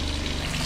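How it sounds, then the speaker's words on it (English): The water pump in an RV runs as a steady, loud mechanical hum with a low pulsing drone, continuous throughout and with no voices. "I'm gonna kick my water pump on."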